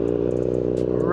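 A Kawasaki ZX6R motorcycle with a Yoshimura exhaust idles close by, a steady low rumble with harmonic throb that lifts slightly at the end.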